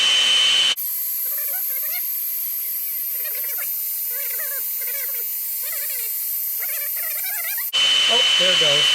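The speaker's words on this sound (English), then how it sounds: "You aim the heat gun at it, it melts the heat shrink, and then it actually self-solders on there." Heat gun aimed at a self-solder connector to melt its heat shrink while wiring an 18V Ryobi Gator, a loud steady blowing whine lasting about seven seconds that cuts off abruptly, with faint squeaky chirps over it.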